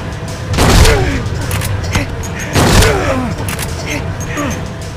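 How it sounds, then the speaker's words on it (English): Enemy gunfire in the survival horror game Silent Hill 2, two heavy booming shots about two seconds apart with echoing tails, over in-game ambience. "dodging his gunfire is really hard to do"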